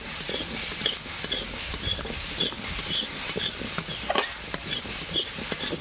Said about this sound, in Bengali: হলুদ দিলাম, সামান্য নেড়ে চেড়ে